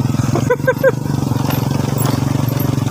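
A motorcycle engine runs close by with a steady low throbbing drone among a herd of cows on a rural road, with a person talking over it briefly.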